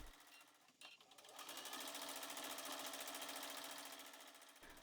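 A sewing machine runs steadily for free-motion straight stitching, starting after a brief pause with a couple of knocks, then holding a fast, even mechanical whir close by until it stops at the end.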